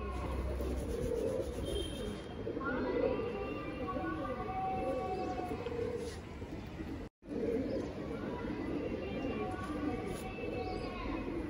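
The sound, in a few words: Saharanpuri pigeon cooing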